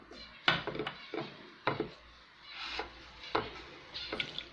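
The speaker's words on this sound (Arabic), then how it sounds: "غنخلط دابا بشويه الماء" A spoon stirs a chermoula of cumin, harissa, paprika, coriander, parsley, garlic and salt with a splash of water in a bowl, making about eight rhythmic scraping strokes with soft clinks, close and alone.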